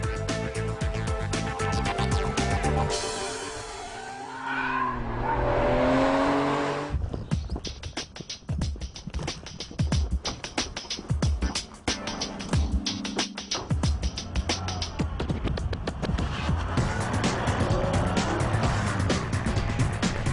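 A Ferrari 575M Maranello sports car with a 515-horsepower V12 engine is heard loud and close. A sustained engine roar shifts pitch, first a smoother stretch and then a rough, pulsing stretch with steady revving.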